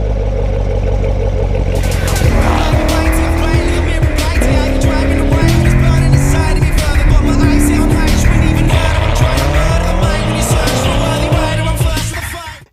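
A 2014 Corvette Stingray drives hard and loud, its engine revving and shifting through rising and falling pitches, with tire squeal and clatter, before it fades out at the end.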